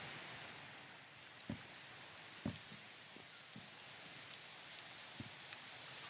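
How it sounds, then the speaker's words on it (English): Steady rain hiss in a video game, with a few sharp droplet taps on a solid surface scattered through it, loud and continuous with no talking. "Rain is always so loud."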